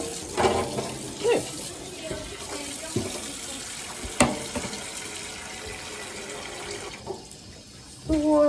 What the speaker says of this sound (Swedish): Ska jag hälla upp lite varmt vatten här.